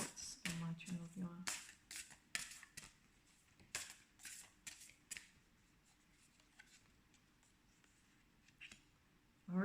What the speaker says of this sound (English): So I'll just give you the shuffle.